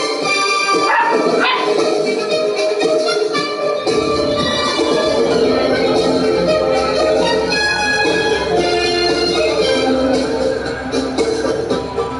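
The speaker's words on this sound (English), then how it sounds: "where we have puppies in the studio" Puppies in a sports broadcast studio yip and bark repeatedly in loud, overlapping bursts, joined partway through by a constant low background hum and a general busy studio clamor.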